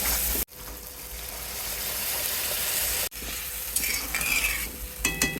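Hot water poured into sizzling masala in a pan, a loud steady hiss and sizzle with stirring and clinks toward the end, broken by two brief cuts.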